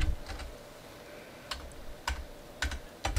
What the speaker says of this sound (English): We go over here to the end and we type in